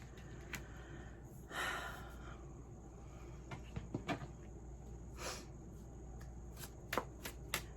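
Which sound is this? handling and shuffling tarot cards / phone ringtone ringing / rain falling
handling and shuffling tarot cards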